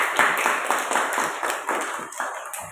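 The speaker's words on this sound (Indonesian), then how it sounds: "Tepuk tangan untuk" Classroom applause, a short burst of many hands clapping in an uneven patter that swells and fades over a few seconds, moderately loud.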